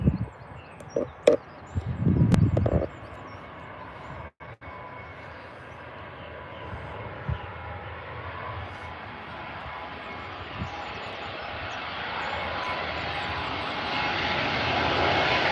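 A Lufthansa Airbus A320 passes overhead at Birmingham Airport, its engine roar swelling steadily from a low rumble to a loud, broad outdoor wash, with a few knocks and brief handling noises near the start.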